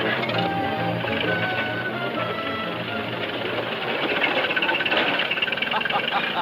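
A tractor engine runs steadily nearby with a continuous rumbling, knocking idle and a mechanical clatter that stays loud throughout.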